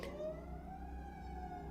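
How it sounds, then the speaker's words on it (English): An emergency vehicle siren wails faintly outside a house, its rising and falling tone carrying from a distance over quiet background noise. "And there's a siren"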